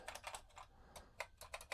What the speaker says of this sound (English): Let's try the keyboard. So the keyboard seems to be working as well.